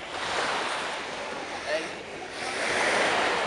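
Sea waves wash in a continuous surging roar at the Gdynia seaside, close and loud, mixed with wind buffeting the microphone, and no one speaks over it.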